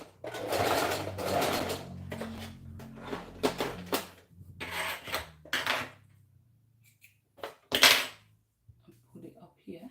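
A sewing machine stitches fabric in short bursts with pauses between, a mechanical whirring that comes close and fairly quiet alongside light handling clicks.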